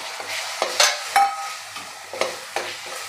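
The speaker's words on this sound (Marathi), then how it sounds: "आणि तेल सुटेपर्यंत आपल्याला परतून घ्यायचं आहे" Spice paste sautés in oil in a pan for a spinach and potato curry over low flame, with a soft steady sizzle broken by several sharp scraping stirs of a spoon, close and fairly quiet.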